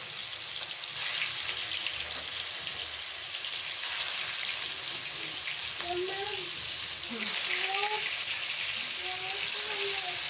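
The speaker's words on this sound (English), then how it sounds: "now that the oil is hot, I'll just drop in my kebab one by one" Sheek kebabs frying in hot oil with a steady bubbling sizzle, close and continuous, while a voice talks over it briefly in the middle.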